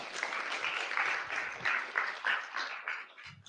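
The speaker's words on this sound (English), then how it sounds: "Big round of applause for Rachel." An audience at a product talk applauds with a warm, dense burst of clapping that holds steady for a few seconds and then fades out.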